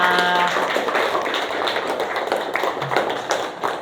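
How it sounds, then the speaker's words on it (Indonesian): Classroom applause from students at a school teaching session, a dense patter of many hands clapping close by, steady at first and loosening toward the end. "Tepuk tangan untuk kita semua"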